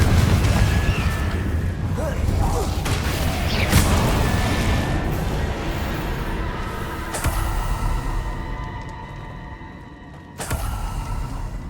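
Confringo fire-blast spells explode in the Hogwarts Legacy game, with several heavy booms and crackling bursts layered over battle noise while a voice shouts spell names.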